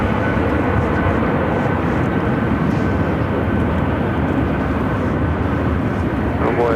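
A Boeing 757-200 jet airliner bound for Newark roars at Phoenix airport, a loud, continuous broadband engine rush holding steady without a break.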